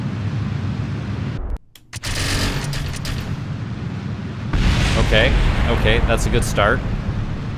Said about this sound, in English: We managed to escape most of the explosions.